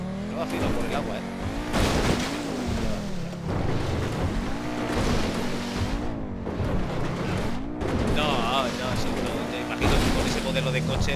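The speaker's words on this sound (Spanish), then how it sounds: "Es un transatlántico." Ocean liner in Grand Theft Auto V plowing through water, a rumbling engine and wash with shifting pitch sweeps, heard under near-constant male chatter in Spanish across the clip.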